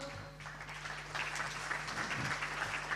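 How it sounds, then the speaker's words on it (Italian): Applause at a Paralympic sports gala award ceremony in Veneto rises after a brief lull into a soft, distant patter of many hands, faint and steady over a low hum. "accompagniamo quindi con un applauso"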